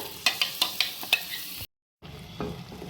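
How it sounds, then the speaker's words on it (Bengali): Spinach paste hits a hot pan of spiced, fried onions while making palak paneer, bringing a close, steady sizzle punctuated by several sharp scraping stirs of a spatula, a brief cut of silence, then the sizzle resumes more quietly. "আমি এবার পালংটা দিয়ে দিচ্ছি, পালংয়ের পেস্টটা"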